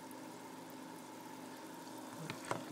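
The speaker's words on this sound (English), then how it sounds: "Got two stones down here bubbling real good." Two air stones bubble in a bucket of worm tea indoors, producing a soft, continuous fizzing burble with a low pump hum beneath and a couple of small splashy pops near the end.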